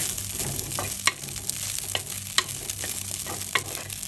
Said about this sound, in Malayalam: നമുക്കിത് നെയ്യിൽ നന്നായിട്ടൊന്ന് ഇളക്കി എടുത്താൽ മാത്രം മതി